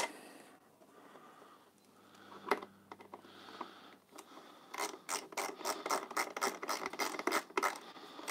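Screws being driven in on a BMW R1250GSA motorcycle during accessory fitting, heard as quiet scattered clicks and then a fast run of rasping, ratchet-like turns and scrapes, close up with no talking.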